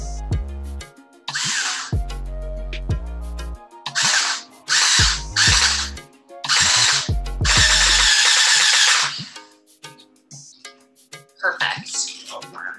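A power drill driving screws into a color guard rifle, running in several short bursts of whirring with pauses and small clicks between, close by and loud.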